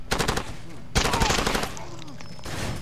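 An M249 SAW belt-fed machine gun fires in Far Cry 2, with three rapid, loud automatic bursts separated by short pauses and someone talking faintly beneath the gunfire.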